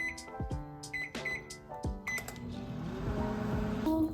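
A microwave oven with a few sharp electronic beeps and button tones, followed by a low steady hum as it runs, fairly quiet.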